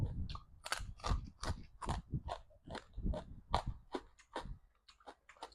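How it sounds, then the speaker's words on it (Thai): Crispy homemade pork rinds are chewed up close in a quick, steady run of loud crunchy bites, about three per second, with no speech. "แคปหมูก็เฮ็ดเองกรอบกรอบ"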